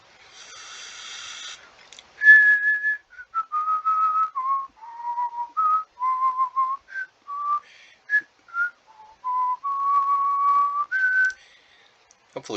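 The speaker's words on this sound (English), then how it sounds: "Hopefully whistling copyrighted music isn't some kind of a copyright strike." A person whistles a clear, melodic tune alone, a string of sustained pitched notes rising and falling with short breaks between phrases, close and fairly loud, preceded by a brief breathy hiss.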